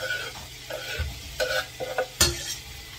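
Diced onion frying in a pan, with a soft sizzle under irregular scraping and stirring knocks as the pieces are moved around, close and fairly quiet.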